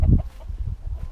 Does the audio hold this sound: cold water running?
no